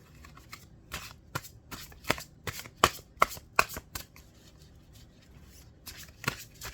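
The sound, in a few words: shuffling oracle cards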